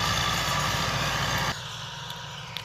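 A tractor engine runs steadily in a field, a continuous droning rumble close by that drops to a quieter, smoother level partway through, with no talking.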